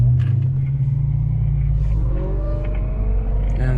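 Dodge Charger SRT Hellcat accelerating on the road, a loud, steady low engine roar rising in pitch as it pulls hard, heard close from inside without talk.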